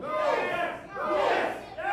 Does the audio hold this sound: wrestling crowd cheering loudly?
yes